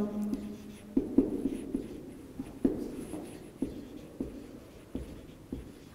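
Chalk or marker writes on a classroom board with a run of short taps and strokes, fairly close and quiet, at an irregular rhythm.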